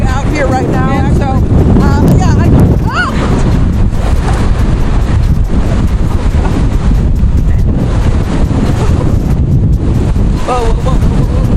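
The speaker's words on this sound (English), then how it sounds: "I'm sure you can tell right now the wind is really strong out here right now." Strong outdoor wind roars and buffets the microphone nonstop during a weather report on bad weather, loud and steady throughout, while a reporter's voice talks over it.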